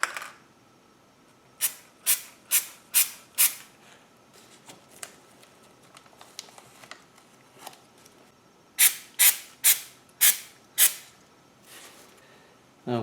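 Adhesive sprayed from an aerosol spray can in two bursts of short hissing puffs, roughly five or six quick sprays each, close and loud with quiet handling in between.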